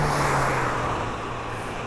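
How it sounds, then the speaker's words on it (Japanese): Steady roar of road traffic heard from a road bike, with a car passing close, a broad continuous rush of tyres and engine that slowly eases off. "今結構車の音が入ってると思うんですけど、"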